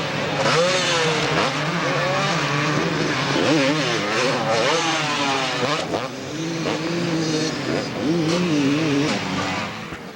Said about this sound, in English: Jeff Ward's doing much better in this moto, running about fifth.